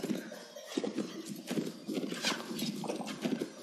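Horse hooves thud in a fast galloping rhythm during a battle in the Mount & Blade video game, close and continuous with a brief neigh and no speech.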